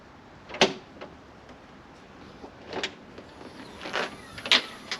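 The boot lid of a Nissan Micra K11 is opened, giving a sharp latch click followed by several scattered clunks and rattles against quiet background.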